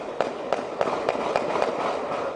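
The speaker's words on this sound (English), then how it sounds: "Multiple cameras in the Capitol Hill area record several gunshots ringing out at 2:18 in the morning." Several sharp gunshots ring out at night in Seattle's Capitol Hill area, heard at a distance as a series of about seven evenly spaced reports over a steady background hiss.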